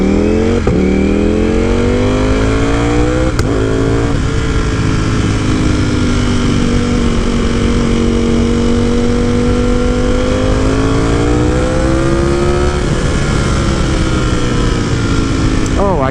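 Ducati Panigale V4S motorcycle ridden at speed, a loud sustained engine drone close to the rider with gradual pitch rises and falls as it accelerates and shifts, wind rush throughout.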